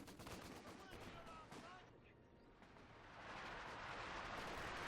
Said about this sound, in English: We got a light barrage coming in right here. This is firing upon something.